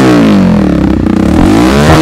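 A TVS Raider 125 motorcycle with a modified exhaust revs hard and close, its pitch climbing and falling with the throttle, loud and rough with a brief stutter midway.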